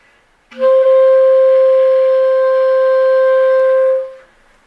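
A clarinet sounds a single sustained D, clear and steady for about four seconds before fading out, with no other sounds.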